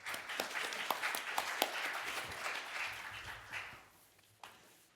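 At a Korean guardianship conference session, a hall audience claps in a fairly faint, dense burst of applause that thins out and fades toward the end.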